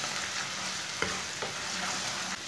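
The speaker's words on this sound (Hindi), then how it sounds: "लहसुन को भी थोड़ा सा ब्राउन कर लेंगे।" Crushed garlic browning in hot oil with lightly browned onions, a steady bright sizzle with a couple of soft clicks of a spoon against the pan.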